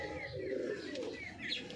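Caged pigeons coo softly in a short stretch of low, throaty calls, with faint chirps and a light flutter mixed in.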